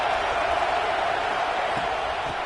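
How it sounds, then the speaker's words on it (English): Football stadium crowd at a college game roars in a steady, dense wash of cheering and noise, loud and continuous with no clear breaks. "This crowd bringing the energy and noise early."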